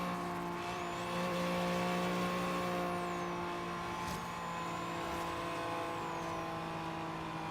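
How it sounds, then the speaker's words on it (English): Engine drone of a racing car in the video game Forza Horizon 3 holds steady while a thin rising and falling turbo whine sweeps above it; no voices. "Yeah, you could hear the turbo right there."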